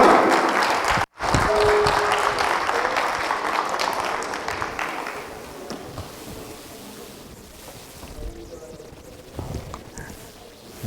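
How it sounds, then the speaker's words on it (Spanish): An audience breaks into loud, sustained clapping for Professor Arturo Jaramillo at a political education talk, dense and steady at first and then thinning and fading toward the end. "Vamos a darle un gran aplauso al licenciado Arturo Jaramillo."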